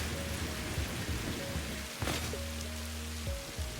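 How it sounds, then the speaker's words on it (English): Steady rain falling in the video game Satisfactory, heard as a loud, continuous hiss throughout, with a sharp crack partway through and low tonal game sounds running underneath. "It is raining quite a bit."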